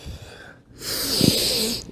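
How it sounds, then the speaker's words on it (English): Heavy, rasping breaths from a man working through a stability ball exercise, close and fairly loud, with a quieter exhale first, then a long strained breath and a short snort-like burst partway through. "You can hear my good breathing"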